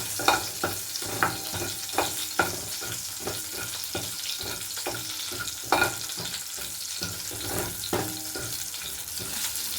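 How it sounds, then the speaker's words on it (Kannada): Green chillies and potatoes fry in a pan for a potato fry dish, a steady close sizzle with repeated scrapes and clinks of stirring throughout, no talking. "ನಾನು ಒಂದೆರಡು ಪೀಸು ಗ್ರೀನ್ ಚಿಲ್ಲಿ ಹಾಕ್ತಾಯಿದ್ದೀನಿ ಅಷ್ಟೇ ಇದನ್ನ ಹಾಕ್ಬಿಟ್ಟು ಫ್ರೈ ಇದ್ದೀನಿ ಸ್ವಲ್ಪ"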